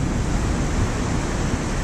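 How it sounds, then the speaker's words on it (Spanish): A swollen river in flood rushing past and carrying tree trunks, a steady dense broadband roar of water, loud and unbroken with no voices. "El agua arrampla con todo, con troncos de árbol"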